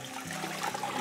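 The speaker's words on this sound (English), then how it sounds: "and then adding 8 cups of water." Water pours steadily into a pot of oats seasoned with salt and pepper, the start of 8 cups going in for goetta, a continuous close splashing rush that fills the whole second.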